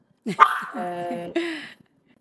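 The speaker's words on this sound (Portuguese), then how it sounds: "desculpa os cachorros, estão latindo" Household dogs bark in a short burst of a few yips and whimpering barks, close and fairly loud, with no talking over them.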